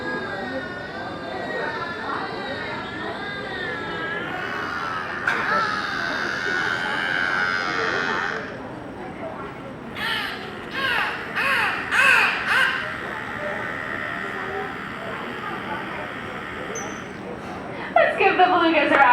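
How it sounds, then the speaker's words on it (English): Beluga whales at an aquarium show give varied chirps, whistles and squeaky warbling calls in bursts, some rising and sweeping, heard fairly close over a low crowd murmur and occasional speech. "Lots of different vocalizations, and if we listen closely, we might get to hear some of those right about now."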